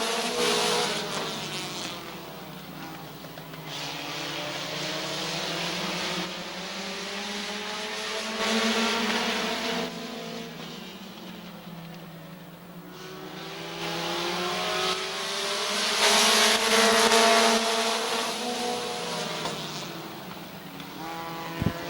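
Race cars roar around the oval at Midvale Speedway, engines rising and falling in pitch as they pass and circle, loud passes swelling and fading over a continuous mid-distance drone.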